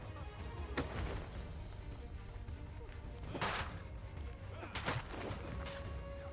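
Gunshots in the video game Assassin's Creed 3, several sharp bursts spaced a few seconds apart over a dense background of game sound and a talking voice.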